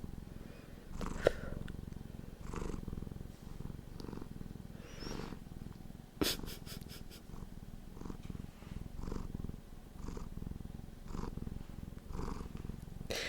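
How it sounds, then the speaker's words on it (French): A cat purrs steadily and close by in a quiet indoor room during a live ASMR session, the soft continuous rumble rising and falling with each breath, broken by a few small bumps and one brief sharp click. "Tu nous auras fait une grosse séance de ronron aujourd'hui."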